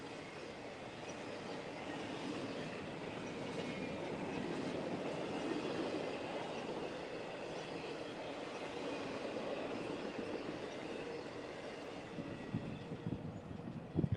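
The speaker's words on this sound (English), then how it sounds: "I-025 southbound through Crofton, Kentucky on the CSX Henderson subdivision." CSX freight train rolling southbound through Crofton, Kentucky on the Henderson subdivision, a faint steady rumble and clatter of passing cars heard from a distance, with a few louder knocks near the end.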